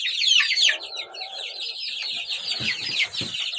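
Domestic chickens mixed with Kuchinsky and Borkovsky breeds and one-month-old chicks moved into an open enclosure make dense, high chattering clucks and peeps, continuous and close, with a few brief thumps later.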